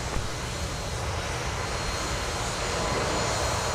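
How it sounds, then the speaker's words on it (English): A SkyWest jet powers up for takeoff on runway 30 right at a winter airport, a steady broad roar of jet engines holding loud and continuous throughout. "runway 30 right, clear for takeoff."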